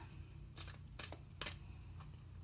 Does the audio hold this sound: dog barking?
no